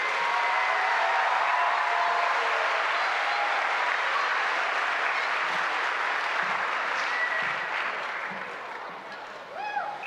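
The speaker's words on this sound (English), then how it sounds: "One more round of applause for this group." A large audience applauds a group of elementary school students at a music festival, with sustained, even clapping that runs the full length before tapering off near the end.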